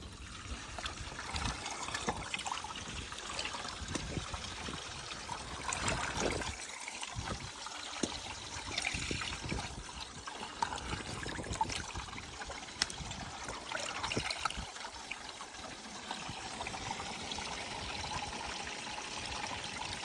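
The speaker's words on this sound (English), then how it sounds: "just pop the drain and let this drain" Water drains out through an opened drain as a continuous soft trickle and gurgle. It stays fairly faint and steady throughout, with occasional light knocks and handling noise.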